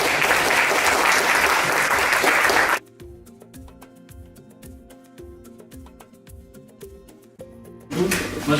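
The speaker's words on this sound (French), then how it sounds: "j'aimerais bien qu'on applaudisse encore" Workshop audience breaking into applause, a loud, dense wash of clapping that cuts off abruptly, leaving a quieter stretch of clicking and humming sounds before the clapping surges back briefly at the end.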